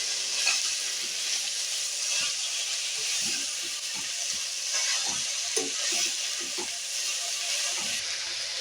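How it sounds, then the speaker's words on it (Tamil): Arai keerai greens cook in a pan with a steady, fairly soft sizzling hiss, broken now and then by light stirring clicks and bubbling pops, with no talking. "கீரை வேகுது"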